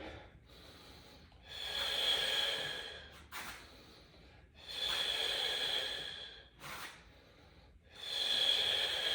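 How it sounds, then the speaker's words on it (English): Deep, slow breaths during a myofascial ball exercise: long, airy inhales and exhales with a whistling edge, close to the mic. Three long breaths are split by short pauses and a quick sniff. "I'm going to take a breath in and just scoop."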